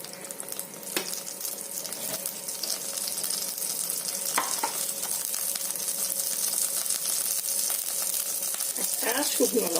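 Black cumin (nigella) seeds sizzle in hot oil in a pan, a steady, fairly faint hiss and crackle with a few sharper pops, while a person speaks softly over it.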